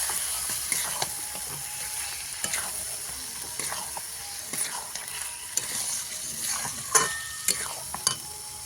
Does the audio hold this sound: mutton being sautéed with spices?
yes